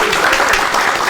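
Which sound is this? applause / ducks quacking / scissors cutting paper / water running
applause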